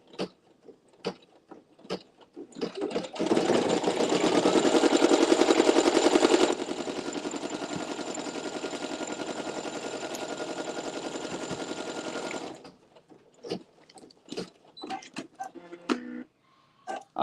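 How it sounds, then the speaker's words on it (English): An embroidery machine stitches down foam for an embossed design, a steady rapid mechanical chatter running about ten seconds, louder at first then settling, with brief clicks and handling sounds before and after. "it's gonna do another stitch that tacks down the foam"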